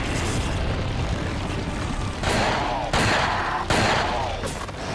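Repeated gunfire in Resident Evil 4 on PS5, loud sharp bursts landing roughly every half second to second over a dense, busy game soundscape of rumbling effects.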